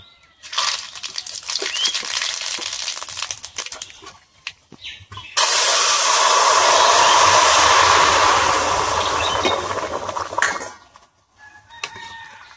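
Mustard seeds and two dried red chillies tempering in hot oil for a sour mango dal, a steady loud crackling sizzle that swells, flares brighter midway, then fades away.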